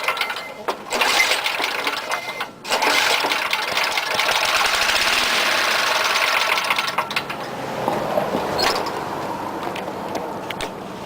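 A Sears Craftsman lawn mower engine cranks and tries to start, a loud continuous mechanical rattle with a brief dip near the start, then a rough sputtering run that eases off toward the end.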